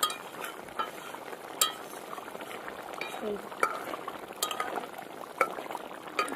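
Rui fish curry with coriander leaf paste and garam masala paste simmers and fries in a pan, giving a soft bubbling sizzle with occasional light utensil clinks and stirring scrapes.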